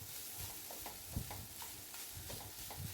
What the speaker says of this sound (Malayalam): നമുക്കൊന്ന് അത് പ്രസ് ചെയ്ത് നന്നായിട്ട് മിക്സ് ചെയ്ത് കൊടുക്കാം